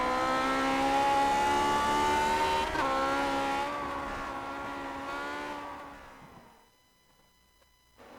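Lotus 49 vintage Grand Prix car racing around Laguna Seca in iRacing, its high-revving engine holding a steady loud pitch, then shifting and winding down as it fades away into near silence.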